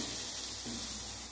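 Potatoes fry in hot oil with turmeric and cumin powder, giving a steady, close sizzling hiss that runs unbroken through the brief moment, with no voices.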